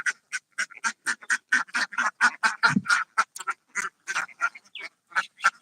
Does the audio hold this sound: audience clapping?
no